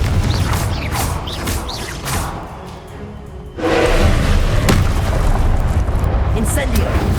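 A Confringo spell blast in the video game Hogwarts Legacy: a heavy, rumbling explosion erupts suddenly midway and keeps roaring loudly afterward, with a voice sounding throughout.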